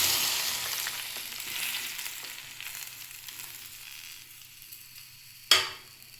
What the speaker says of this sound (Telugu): ఇప్పుడు అదే గిన్నెలో ఇంకా కొంచెం నూనె యాడ్ చేసిన. ఇప్పుడు ఈ టమాటా వేసేద్దాం.